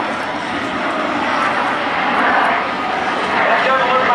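An F/A-18C Hornet fighter jet at the 2007 NAS Oceana Airshow gives a loud, continuous jet roar that swells and eases slightly, with a voice faintly underneath.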